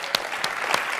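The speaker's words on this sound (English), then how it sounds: "Can't applaud him enough" An audience claps after a speech, sharp hand claps scattered across a short burst of applause in a hall.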